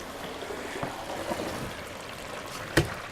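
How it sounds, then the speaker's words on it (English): Cold water flows through a hose connector into a tank, a soft steady trickle and gurgle heard close by and fairly quietly, broken near the end by one brief sharp knock. "And I can hear that it's flowing. I can hear the water."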